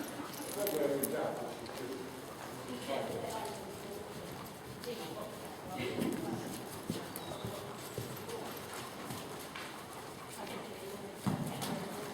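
Horse hooves clip-clopping steadily on the ground nearby during a polo lesson, with people talking throughout and outdoor background noise.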